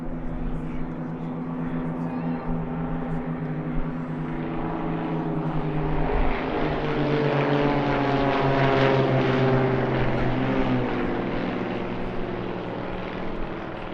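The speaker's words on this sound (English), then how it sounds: "The Z50 is a Czechoslovak aerobatic aircraft which first flew in 1975" Zlin Z50, a Czechoslovak aerobatic propeller plane, performing at a seaside airshow in Gdynia; a steady, loud piston-engine drone with shifting pitch as the aircraft passes, swelling toward the middle and holding throughout.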